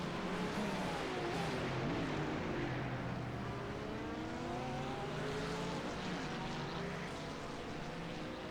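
Race cars, an LMP2 prototype and a GT3 car, rolling into the pit lane in an IMSA racing video game, their engines droning steadily with shifting pitch as they slow and pass close by, no voices.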